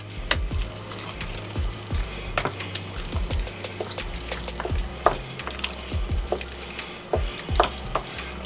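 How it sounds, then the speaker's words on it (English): A spoon stirs and scrapes through a hash brown casserole mixture in a pan, with steady wet churning, soft clatters against the pan and a light sizzle, loud and close. "we're going to mix this all up again"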